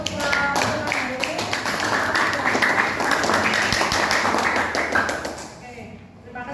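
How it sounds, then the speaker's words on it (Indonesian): A class of students claps their hands together at the end of a lesson, giving sustained, dense clapping that lasts several seconds and then fades out. "Kita berikan tepuk tangan untuk pertemuan hari ini."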